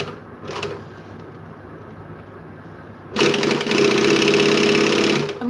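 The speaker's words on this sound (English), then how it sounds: "We're going to back stitch because we need to try the back stitching" A Brymaxx sewing machine back stitching through a single layer of fabric runs in a steady, loud, fast mechanical whir for about two seconds after a quieter lead-in.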